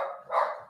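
A dog indoors gives a single loud, close bark when the doorbell rings; the bark is short and sharp, with no other sound around it.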